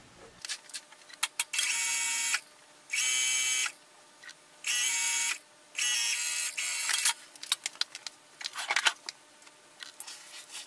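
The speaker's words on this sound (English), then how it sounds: "we're going to sew the center back seam on our back piece, 5/8 of an inch, all the way from the top to the bottom" A sewing machine stitches a 5/8-inch center back seam on a garment back piece in several loud, steady whirring bursts of a second or so each, separated by pauses filled with small clicks and fabric handling.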